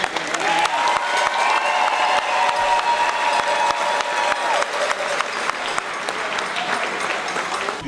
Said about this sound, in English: they deserve a round of applause for the right way